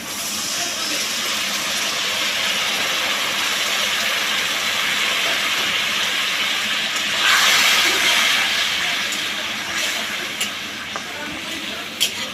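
Cold water poured into a hot pan of dried fish chutney gives a steady broadband hiss that swells briefly around the middle, with a few small clicks toward the end.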